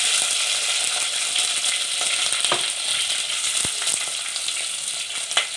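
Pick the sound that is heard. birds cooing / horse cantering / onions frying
onions frying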